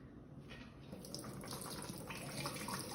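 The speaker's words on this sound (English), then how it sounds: "So I'm just going to put the chickpeas in here and rinse them." Canned chickpeas get rinsed under a running kitchen tap, a steady soft hiss of flowing water splashing into a sink, continuous and fairly quiet throughout.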